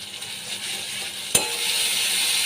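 Ginger and garlic paste frying in a pan for a katla fish curry: a steady soft sizzle throughout, with a single sharp clink of a utensil partway through.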